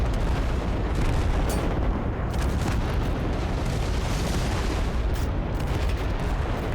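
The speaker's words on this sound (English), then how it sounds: "Something firing at us over here." Dense, continuous booming and crackling gunfire from enemies in the video game Total Conflict: Resistance, a steady roar of overlapping shots and blasts with no clear gaps.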